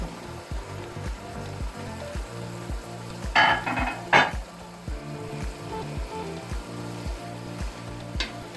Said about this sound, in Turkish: Ben bunu böyle kavura kavura bir 10-15 dakika pişireceğim.